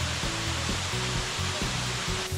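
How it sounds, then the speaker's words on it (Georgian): Mirveti waterfall, about 20 metres high and hidden in a forest in Upper Ajara, roars as a loud steady broadband rush of falling water, with a low rhythmic hum underneath. "ჩანჩქერი ტყეშია ჩაკარგული და მისი სიმაღლე 20 მეტრია"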